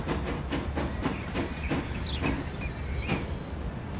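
A train rolls in on the rails in the video game Transport Fever, with steady rhythmic clickety-clack of wheels over joints under a continuous rumble and a faint high squeal of wheels.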